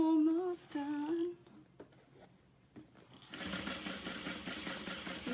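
Sewing machine stitching an all-vinyl tote, starting up after a brief musical tone and running steadily at a close, moderate level for the last couple of seconds.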